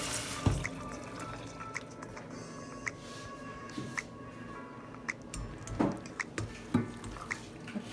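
Cold water trickles and drips into a pot of drained pasta, scattered faint splashes and drips over a quiet kitchen background.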